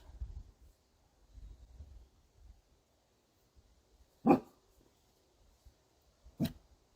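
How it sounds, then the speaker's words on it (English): A dog barks outdoors, two short sharp barks a couple of seconds apart at moderate distance, with quiet rustling between them. "The dog is just now barking at the people that went by on the motorbike."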